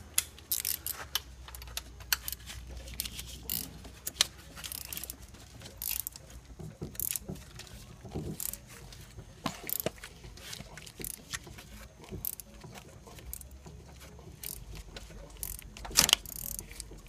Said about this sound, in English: It's a 12-point bolt, so you're gonna need a 12-point socket.